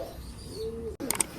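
Pigeons in a fly pen give a soft, short coo, followed by a few faint chirps. The calls are quiet and brief against low background noise.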